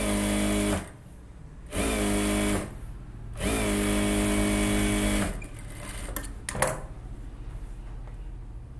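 A sewing machine stitches a silk cotton saree blouse in three steady motor runs separated by short pauses, loud and close, then stops, leaving a few light clicks of handling.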